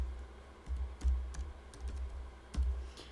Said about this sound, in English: you can just start typing in amounts here